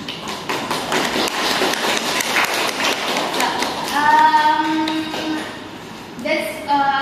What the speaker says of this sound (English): I want you to